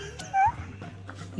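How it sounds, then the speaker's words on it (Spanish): A dog's short high whimper comes through a voice chat during a gaming session, a brief thin whine over a low hum and background noise. "El perro en tu voz."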